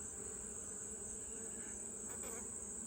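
A close, unbroken hum from a mass of honey bees on hive frames of hatching brood. The buzzing holds steady and fairly loud, with a faint brief swell near the end and no talking.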